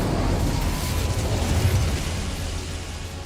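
A dense, continuous roar of flame from the Incendio fire spell in Hogwarts Legacy, loud and close, a rumbling blaze that holds steady without pauses.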